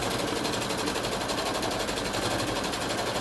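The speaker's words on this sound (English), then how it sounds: "I'm just gonna bring my stitching from the fingertip part first and work my way back down to the very end" A flatbed embroidery machine stitches a potholder, producing a fast, even mechanical rattle of needle strokes that continues steadily up close.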